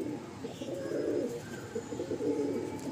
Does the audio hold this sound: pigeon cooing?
yes